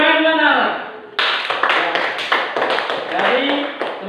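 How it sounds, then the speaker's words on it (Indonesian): Schoolchildren in a classroom clap their hands in a burst of quick, uneven claps after a teacher speaks, with voices heard at the start and end. "Tepuk tangan dulu anak-anak."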